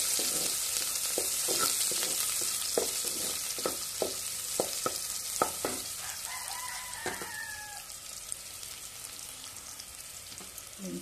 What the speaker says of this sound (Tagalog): Gisahin muna natin guys ang ating garlic at onion.